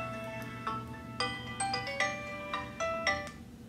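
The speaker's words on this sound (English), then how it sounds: "Your phone sings!" A phone plays a melodic ringtone, a run of bright chiming electronic notes in a bouncy rhythm, fairly close and moderately loud, with no speech.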